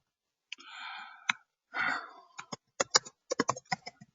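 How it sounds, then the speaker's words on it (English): Keystrokes on a Finnish computer keyboard: a few sharp separate clicks, then a quicker irregular run of taps near the end. A soft breathy sigh-like sound comes before them in a quiet room. "This Finnish keyboard is driving me crazy."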